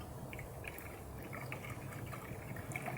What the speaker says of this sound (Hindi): अब सारा पानी डाल देंगे इसमें।